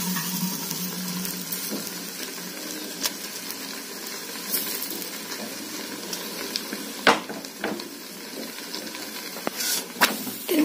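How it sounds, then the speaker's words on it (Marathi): Sesame and pearl-millet bhakri flatbread cooks on a hot iron griddle, dabbed with water, producing a soft continuous sizzle with louder hissing spurts toward the end. "आता मी इथे दुसरी भाकर टाकलेली आहे तव्यावरती।"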